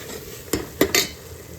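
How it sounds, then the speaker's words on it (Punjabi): Chickpeas being tempered in a pan: three quick metallic clanks of a utensil striking the pan over a faint, steady sizzle. "ਇਧਰ ਆਪਾਂ ਛੋਲਿਆਂ ਨੂੰ ਤੜਕਾ ਲਾ ਰਹੇ ਆ"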